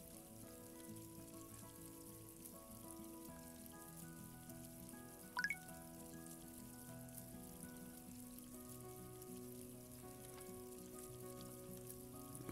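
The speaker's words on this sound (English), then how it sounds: "now it's raining again." Soft, steady rain patters on surfaces in a video game at sea, a faint continuous hiss lying beneath tonal game music, with one brief sharp chirp near the middle and no voices.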